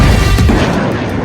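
A single heavy boom from a missile strike on Gaza city, loud and close, with a deep rumbling low end that lingers and fades across about a second.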